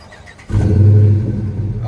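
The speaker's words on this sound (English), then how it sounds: "Go ahead and start it up, bro." A Dodge Challenger with Flowmaster 40 mufflers, rear delete and new tips fires up: quiet, then a sudden loud low bark at ignition that settles into a rumbling idle, with a voice speaking briefly at the start.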